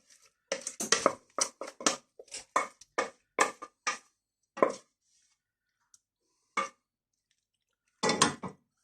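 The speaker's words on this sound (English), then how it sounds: "So we're going to transfer it to an oven-proof dish now" Mac and cheese with sausage and brussels sprouts is spooned into an oven-proof dish, a run of close scraping and clinking bursts of utensil on cookware, then a pause with a lone tap and a final clatter.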